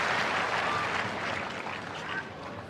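Applause from a tennis crowd at the Dubai 2011 final between Federer and Djokovic after a backhand down the line, a steady burst of clapping filling the arena and slowly tapering off.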